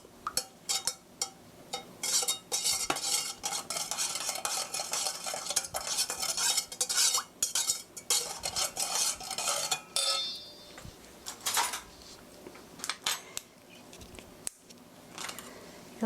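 Sugar stirred into soy sauce in a bowl until dissolved for soy sauce noodles, a spoon scraping and clinking steadily against the sides, close and busy, with a brief pause partway through.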